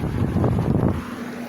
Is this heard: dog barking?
no